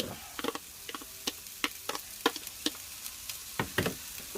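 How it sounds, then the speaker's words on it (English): Onions and bacon dropped into heated oil, crackling with scattered sharp pops and ticks over a low steady sizzle, fairly quiet and close, with no voices. "So that oil's already started to heat up. Put your onions in there. Put your bacon in there."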